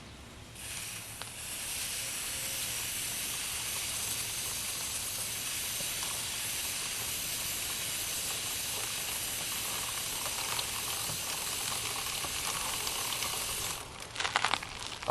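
Chain lube sprays onto the chain of a Suzuki GT250 motorcycle raised on its center stand, a steady close hiss running unbroken for about thirteen seconds before a few short clicks and rattles at the end.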